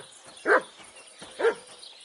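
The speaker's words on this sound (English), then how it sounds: "Good doggy, good boy." A dog in the medieval game Kingdom Come: Deliverance II gives two short barks about a second apart, close and moderately loud over a quiet ambient background.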